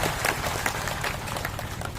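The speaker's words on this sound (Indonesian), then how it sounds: "Tepuk tangan buat Limunding." An audience at a religious lecture gathering claps in a dense, continuous burst of many hands, a fairly loud and steady patter lasting a couple of seconds.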